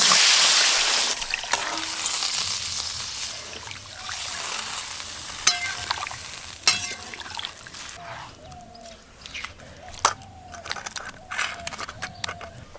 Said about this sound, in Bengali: সেদ্ধ করে রাখা সবজি ঝোল সমেত দিয়ে দেব।